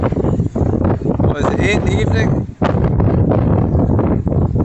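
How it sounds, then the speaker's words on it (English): Strong coastal wind at Black Rocks overlooking Whiting Bay buffets the microphone in heavy, continuous roaring gusts, with someone talking briefly through the blustery noise. "Extremely windy."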